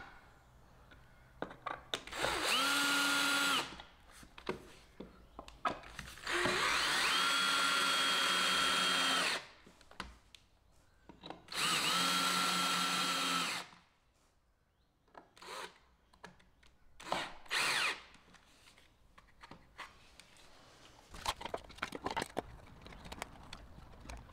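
A power drill drives screws through century-old wooden trim boards into uneven hallway walls of a Swedish schoolhouse. It comes in several close, loud whirring bursts, some brief and others sustained for a few seconds, separated by quieter handling noises.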